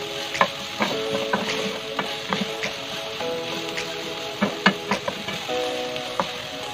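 Chili and tomato being sautéed in a pan, an ongoing sizzle broken by repeated scraping stirs and utensil clicks against the pan, close up with no talk.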